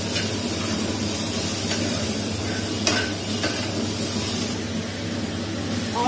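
Onion and ginger garlic paste fry in a pan with a continuous close sizzle, broken by a few clinks and scrapes of a stirring utensil.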